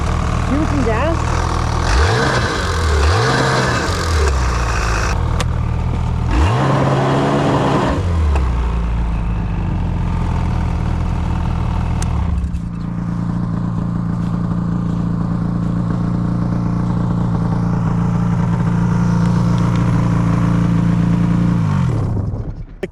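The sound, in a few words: Ski-Doo XRS snowmobile engine revving with a faulty clutch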